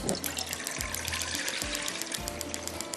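Water runs steadily into a cooking pan, about four glasses for yakhni pulao, a continuous splashing pour with gurgling bursts, close and fairly loud with no talk.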